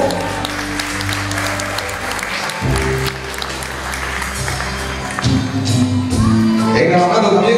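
A crowd claps for a chambelán being presented at a party, steady applause under loud background music with a thumping beat, some cheering, and a swell toward the end.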